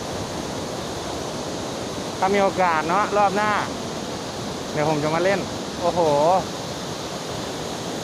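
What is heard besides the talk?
Kuang Si waterfall roaring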